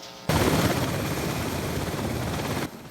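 A medical evacuation helicopter flying in a mountainous area of Taoyuan, Taiwan, gives a loud, steady broadband roar that starts abruptly and holds for over two seconds before cutting off, with no talk.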